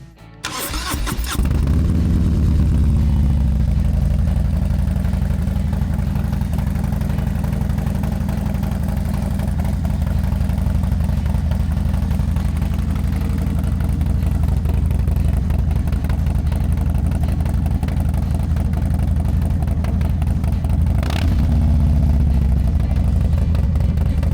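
A cold Harley-Davidson Low Rider S fitted with a Stealth Pipe Bomb muffler cranks and fires, then settles into a loud, steady close-up idle that holds, with a brief blip near the end.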